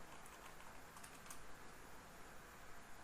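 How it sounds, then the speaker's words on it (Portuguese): Typing the dcpromo command on a computer keyboard while setting up an Active Directory child domain on Windows Server 2008: very faint key taps barely rising above a steady background hiss. "Então vamos aqui digitar o comando dcpromo."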